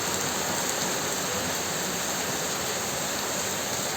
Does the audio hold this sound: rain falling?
yes